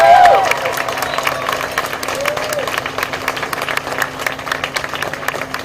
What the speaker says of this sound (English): Can we please give a round of applause one more time